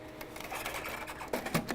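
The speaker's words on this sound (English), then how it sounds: "Just push it into the printer. It will grab the media and take it and load it" An Epson ColorWorks C6000 label printer grabs and loads media with faint whirring and a few sharp mechanical clicks and clunks near the end, quiet and close.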